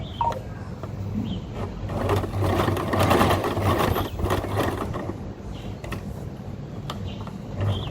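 A sewing machine stitches a polo shirt placket in a steady, close mechanical chatter lasting several seconds, with a few clicks and shifts in pace.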